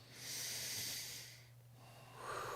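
A person draws a single deep breath during a presentation-coaching exercise, a soft hissing inhale that swells and fades, then a second quieter breath, close and alone.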